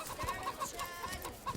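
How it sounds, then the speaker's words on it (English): Short, clipped clucks from roosters in the role-playing game Divinity: Original Sin come in a loose rhythm over quiet game ambience, near and moderately loud, with no one talking. "Oh, can I talk to the roosters?"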